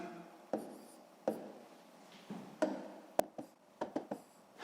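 Numbers being written by hand while working a long-division sixth-grade maths exercise, a series of short scratchy pen strokes and taps in irregular bursts, close and fairly quiet with no talking.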